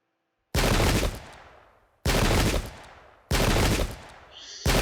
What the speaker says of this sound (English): It's a lot of counter fire we're taking.